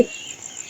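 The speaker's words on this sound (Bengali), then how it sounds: "সেই ঝিঝি পোকার ডাক" A steady, high-pitched trill of crickets chirping, continuous and fairly faint, with no voices.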